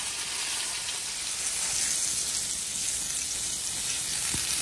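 Eggplant pieces fry in hilsa fish oil with a loud, dense, unbroken sizzle close by, a light spatter running through it and a single soft knock near the end, no voices.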